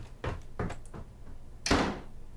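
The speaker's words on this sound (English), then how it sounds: "I quickly turned and ran up the stairs to my room, slamming the door behind me." A bedroom door banging shut after footsteps, a few soft thuds followed by one louder, sharp slam nearby with a short decay into quiet.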